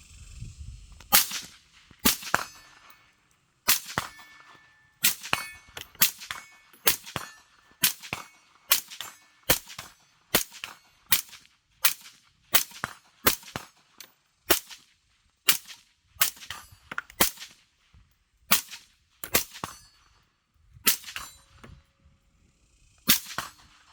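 A POF Minuteman rifle fitted with a Yankee Hill Fat Cat suppressor fires about thirty suppressed shots in an uneven, fairly steady series. Each shot is a sharp, metallic crack, loud and close, with short gaps between shots and no talking.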